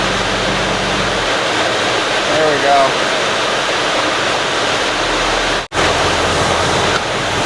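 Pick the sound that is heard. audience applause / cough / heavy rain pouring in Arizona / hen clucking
heavy rain pouring in Arizona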